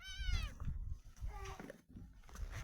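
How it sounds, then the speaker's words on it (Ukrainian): A cat meows loudly and insistently up close, a few drawn-out cries in quick succession. "Самий крикливий котик."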